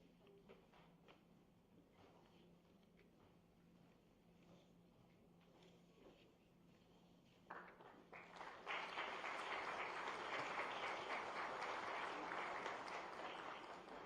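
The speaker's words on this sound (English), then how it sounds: "Please give a round of applause." Audience applause at a Gandhinagar ceremony where companies sign MoUs with the Chief Minister, starting after several quiet seconds of faint room sound and then swelling into sustained, fairly loud clapping that runs to the end.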